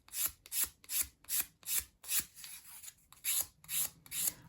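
Fine sandpaper rubbing along the edges of small wooden pieces for a 1/12 scale dollhouse coffee table, about a dozen steady rasping strokes in an even back-and-forth rhythm, close and clear with no talk.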